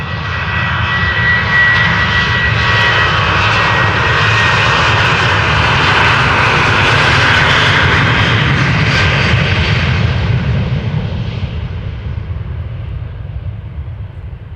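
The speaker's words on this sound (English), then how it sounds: "Boeing 737 from KLM on its way to Paris," A KLM Boeing 737 jet roars past at Amsterdam Schiphol Airport, a loud, sustained engine rumble and whine that builds and then slowly fades as the plane moves away.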